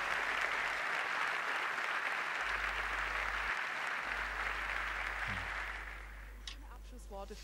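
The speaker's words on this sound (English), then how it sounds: "I think that's worth a round of applause for all these lovely people." Audience applause in the Porsche Museum during a 75th-anniversary evening event, a full, steady burst of clapping from a crowd that fades out after about six seconds, followed by brief scattered sounds.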